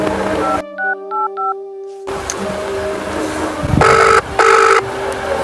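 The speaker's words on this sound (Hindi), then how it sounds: "अभी डीआईजी साहब को फोन मिलाता हूँ" A telephone being dialed to call a police DIG: a run of short DTMF keypad beeps in a quiet gap, then a low hum, followed by two longer bursts of ringing tone, all fairly loud and with no speech.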